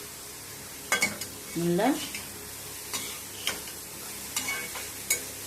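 Grated carrot sautéing for a carrot stir-fry, with a spoon scraping and stirring through it in a pan in several short bursts over a soft sizzle, and a brief voice speaking.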